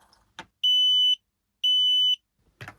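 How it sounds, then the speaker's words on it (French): A CARPRO TEC FUSION 4G alarm in a camper van gives two loud, clear electronic beeps of about half a second each, separated by a short silence, with faint clicks before and after. "Elle bip 2 fois."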